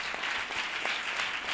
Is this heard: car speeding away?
no